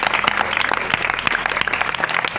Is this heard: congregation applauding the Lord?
yes